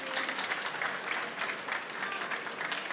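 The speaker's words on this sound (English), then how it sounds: "a great round of applause," Audience applause at a tech conference session, a steady dense wash of many hands clapping, moderately loud and continuous with no talk over it.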